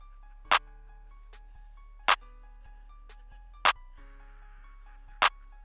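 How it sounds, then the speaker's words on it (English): A beat plays a simple clap bounce, with four sharp, evenly spaced claps over a low sustained bass hum and faint background tones. "I used the standard clap, like just on every 8 rack, just like a simple clap bounce"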